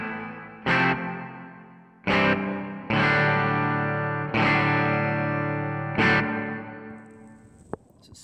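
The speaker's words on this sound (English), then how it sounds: "Here's the hall we just heard." Overdriven electric guitar run through a TC Electronic Hall of Fame pedal set to hall reverb, five loud chord strikes whose long, washy decays overlap and sustain between hits before a final fade.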